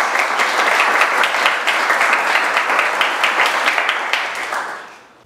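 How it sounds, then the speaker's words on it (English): Audience applause at a community open house, a steady dense clapping from a crowd that holds strong for about four seconds and then tapers off toward the end. "So please, big round of applause for Emily Shirley Bond."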